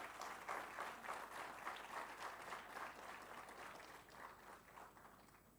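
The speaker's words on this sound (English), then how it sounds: "A huge round of applause, everyone," Audience applause at an MBA convocation ceremony, a quiet, distant-sounding patter of many hands with soft rhythmic swells, steady across the span and tapering a little at the close.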